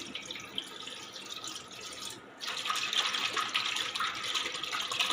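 Water is poured into a bowl of egg, sugar, salt and baking soda mixed for porotta dough, a faint, steady hissing trickle that swells louder partway through after a brief dip.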